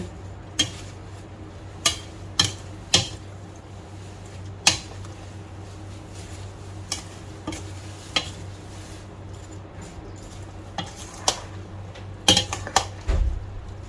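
A spoon clinks and taps against a bowl as fruit chaat is mixed, a series of sharp, irregular knocks over a quiet background.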